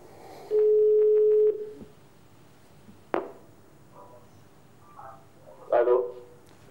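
A telephone ring tone while dialing a number on a live broadcast: one long, steady ringback tone lasting about a second, then a sharp click and brief, quiet voices.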